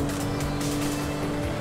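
A car driving in Grand Theft Auto V on PS5, a steady engine drone with road rumble running continuously and fairly loud, with no voices over it.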